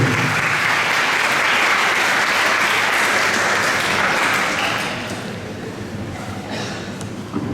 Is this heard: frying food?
no